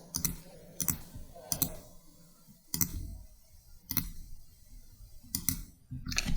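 Computer mouse clicks in AutoCAD while trimming parts of a circle, a series of about eight sharp, close clicks in an uneven rhythm, mostly in pairs, with no talking.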